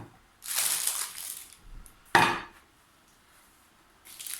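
Onion flatbread (lokur) being pulled apart by hand, with two crisp, crackly tearing bursts, the second sharper and louder, then a faint rustle, all close by with no talking.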